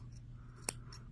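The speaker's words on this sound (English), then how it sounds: "I will also snip the seam allowance" Scissors make a single crisp snip into the fabric seam allowance of a neckline bias facing, a quiet sharp click over a low background hum.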